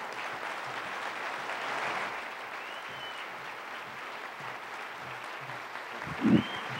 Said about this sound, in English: applaud Congressman Mike Coffman as he comes